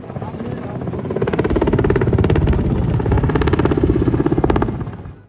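A Kamov Ka-52E attack helicopter prepares for flight at the Dubai Airshow, its rotor beating steadily and loudly with a rhythmic thump that builds and holds before fading at the end.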